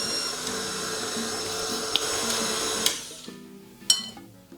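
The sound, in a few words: electric mixer mixing cupcake batter on low speed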